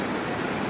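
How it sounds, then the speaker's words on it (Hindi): Fast floodwater swollen by continuous rain near Tehri rushes past as a dense, steady, loud roar that fills a brief moment, with no talk. "पानी का तेज बहाव लगातार हो रही बारिश की वजह से"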